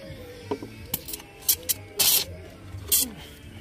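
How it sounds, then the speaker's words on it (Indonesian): Several short hissing bursts from a handheld spray bottle misting scented fishing bait outdoors in the rain, spaced irregularly with one longer spray in the middle, close and fairly loud. "Oke, kita semprot dulu umpannya."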